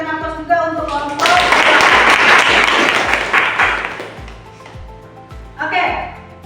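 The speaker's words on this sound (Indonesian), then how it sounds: "kita berikan aplaus juga untuk kelompok" Applause from a classroom audience for a student group, a dense burst of many hands clapping that swells and holds for about three seconds, then tapers off, with a short second flurry near the end.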